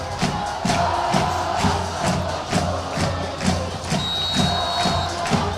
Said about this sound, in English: this is a hot crowd, man